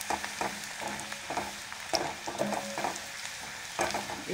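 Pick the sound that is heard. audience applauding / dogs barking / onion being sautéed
onion being sautéed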